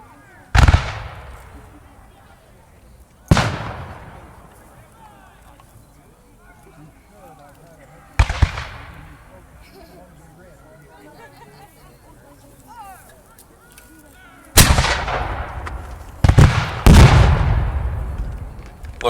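Musket volleys fired by troops at a Revolutionary War reenactment: sharp, loud blasts at irregular intervals, two close together near the end, each trailing off with echo between, under talk.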